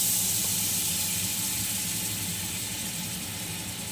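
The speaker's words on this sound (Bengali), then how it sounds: "আমি ফোড়ন দেব।" Tempering spices for niramish aloor dum, sizzling in hot oil: a steady, close, broadband hiss with no talk over it, fading slightly toward the end.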